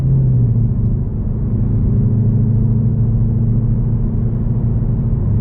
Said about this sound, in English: Ooh, I love that sound. Ain't nothing like a V8.